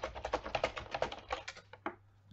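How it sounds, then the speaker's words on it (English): Rapid typing on a computer keyboard, a quick run of close key taps that slows to a few scattered presses and then stops, with no talking. "you type in its name"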